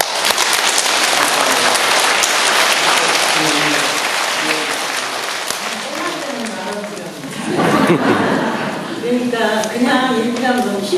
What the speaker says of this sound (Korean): 사랑하는 구주인 신부님의 부임을 다시 한번 진심으로 큰 박수로 환영합니다